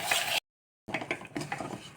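A spoon stirs paneer and ragi dough in a metal pot, making scraping, clattering strokes that break off into a brief silence and then resume.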